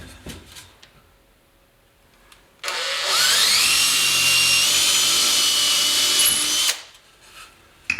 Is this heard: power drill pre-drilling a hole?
yes